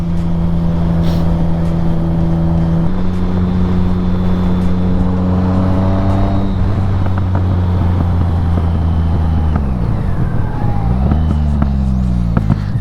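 A BMW K75 motorcycle engine runs steadily, its loud droning hum holding pitch, then dropping and shifting as the bike slows and coasts at low speed, with wind rumble throughout.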